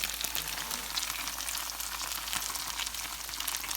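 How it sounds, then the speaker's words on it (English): Salsa going into a hot pan of sausage and cream cheese dip, giving a dense, steady sizzle and crackle, close and even throughout with no talking. "now I'm going to add my salsa in."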